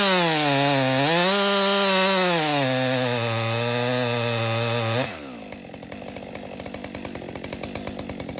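A Husqvarna 562XP Mark II chainsaw with a freshly filed chain screams loudly at high revs, its pitch wavering, then drops into a rougher, buzzing tone as it bites into soft wood, running close and alone.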